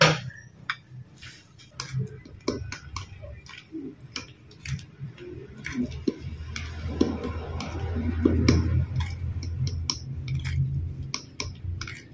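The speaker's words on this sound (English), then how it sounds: "Now we're gonna stir it again." A utensil stirs pancake batter in a bowl, making quick irregular ticking taps and clinks, with a low rumble in the background.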